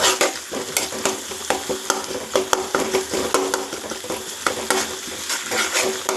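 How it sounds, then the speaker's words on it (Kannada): Egg fried rice with homemade red chutney frying and being stirred in a pan, a steady close sizzle broken by frequent scraping and clinking strokes of a spatula against the metal. "ಚೆನ್ನಾಗಿ ಫ್ರೈ ಆಗಬೇಕು."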